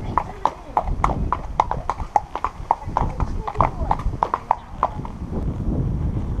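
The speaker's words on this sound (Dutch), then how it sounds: "We gaan even proberen wat te draven, wat te galopperen." Horses' hooves clip-clop in a steady trotting rhythm on an outdoor trail ride, close and clear, with a rider's talk and some background noise mixed in.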